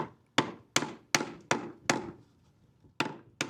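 A light hammer taps a cutlass bearing onto a boat's prop shaft: seven sharp, ringing knocks in an uneven rhythm, close and loud, with a short pause before the last two.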